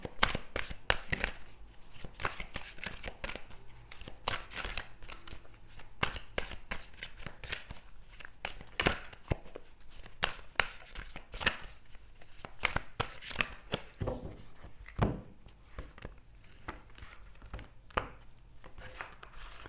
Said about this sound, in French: Voilà, on mélange un peu bien.